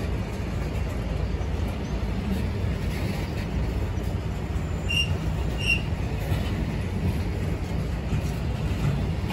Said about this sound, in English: Goods train.